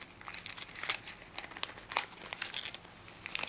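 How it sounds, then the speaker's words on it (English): Origami paper being folded and creased by hand, heard as close, quiet crinkling and crisp papery rustles that come in quick, irregular bursts. "Take this flap,"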